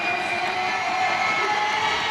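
A basketball arena crowd at a EuroLeague Women game roars steadily and loudly throughout, a dense continuous wash of cheering with no break.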